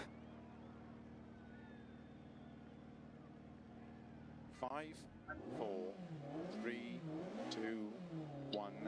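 A BMW rally car engine holds a steady drone, then revs sharply up and down in quick, wavering bursts that grow louder toward the end.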